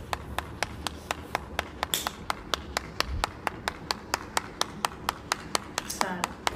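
Single pair of hands claps in a steady, evenly spaced rhythm, close and crisp, about four claps per second, with brief voice sounds under the beat.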